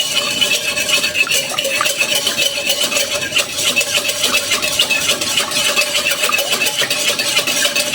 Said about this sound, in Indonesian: Ini mau kita masukkan telurnya. Ini mau kita aduk lepas dulu ya.